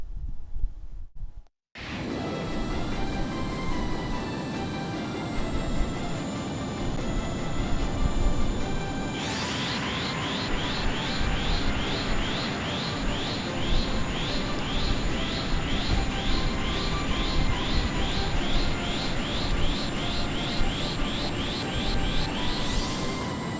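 Plane engine in the flight game Sky Odyssey, a continuous loud drone with a steady high whine. Partway through, a rapid repeating pulsing pattern joins the engine, and a brief cut breaks the start.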